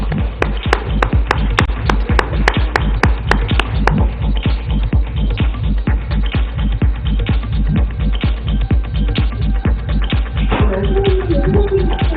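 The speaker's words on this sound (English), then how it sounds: "A big round of applause, ladies and gentlemen." Award ceremony audience clapping for prize-winning teams at a business conference in a hotel hall, a dense, steady burst of applause filling the whole stretch, with sharp individual claps standing out near the start.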